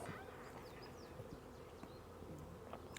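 Honey bees swarm around backyard hives and swarm traps, a steady close buzzing drone with individual insects zipping past the microphone throughout.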